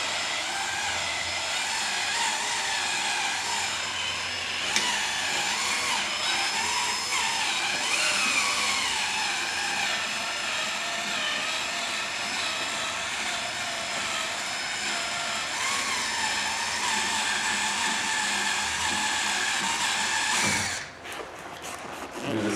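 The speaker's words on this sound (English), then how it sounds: "So we'll take a 1/4 inch drill bit" A steady, high-pitched drill whine from a 1/4 inch bit drilling out rivets on a golf cart runs continuously for about twenty seconds, then cuts off briefly near the end.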